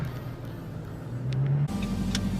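Steady engine drone and road noise from a car driving along in traffic, heard from inside, with a brief swell as it accelerates before settling back to a constant hum.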